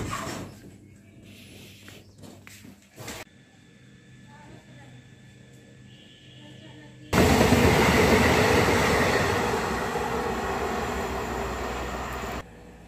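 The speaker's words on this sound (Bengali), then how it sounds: "একটার পর একটা ট্রেন, একটার পর একটা মালগাড়ি পেরিয়ে যাচ্ছে" Seen from a halted train near Pratapgarh on the Kolkata to Lucknow route, passenger and goods trains pass by: quiet rumbling and a low murmur, then a train roars past close by for about five seconds before cutting off abruptly.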